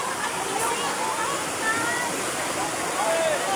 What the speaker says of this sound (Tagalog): Kusog na jud kaing baha.